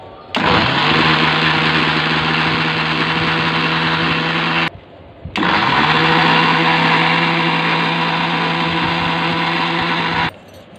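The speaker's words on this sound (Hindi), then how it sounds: "अब इसको हम पीसेंगे।" A mixer jar grinds chocolate biscuits with milk and Eno: two loud, steady high-pitched whirring bursts of the motor, the first about four seconds long, then a brief pause, then a second run of about five seconds.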